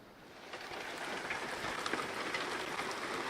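A sudden Sunday morning rain shower falling outdoors at a canyon wilderness base camp by the Rio Chama, a steady broadband hiss of rain that continues without pause.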